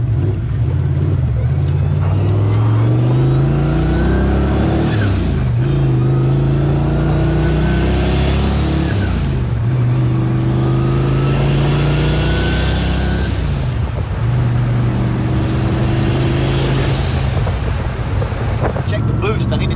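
A car with adjustable struts accelerating through repeated gear pulls, engine tone rising and dropping at each shift, loud and close inside the cabin with wind noise, while people talk.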